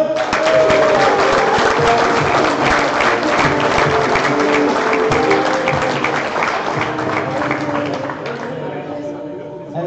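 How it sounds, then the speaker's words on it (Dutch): An audience at a football stream show claps loudly in sustained applause that fades slightly toward the end, while a voice talks over it. "Mag ik een groot applaus voor Simon Ruffel?"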